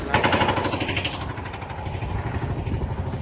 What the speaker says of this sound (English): As you can hear, he's jackhammering right now